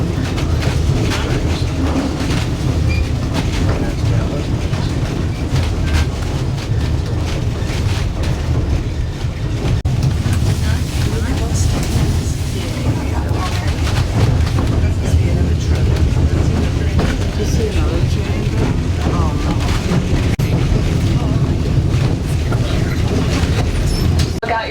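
A White Pass Railway train rumbles and clatters steadily along the track toward a tunnel, a continuous heavy roar with rail noise heard from on board, with a voice faintly audible underneath.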